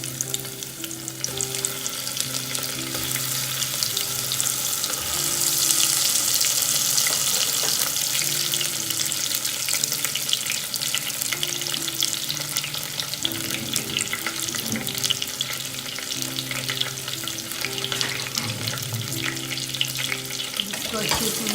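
Eggplant frying in a pan over a low flame for undhiyu, a loud, continuous hissing sizzle with rushing, watery texture and faint stirring beneath a steady low hum.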